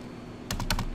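A computer keyboard being typed on, four quick close key clacks in a short burst after a moment of quiet room tone, no speech.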